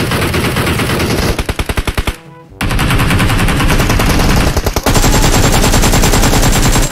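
Sustained automatic gunfire in the mobile battle royale game BGMI, loud and close, a dense rapid stream of shots with a brief break midway before the firing resumes and continues to the end.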